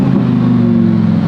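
A supercharged Lamborghini Huracan STO engine holds a loud, steady droning rev from inside the car, a strong low hum with a layered tonal whine running through the whole moment.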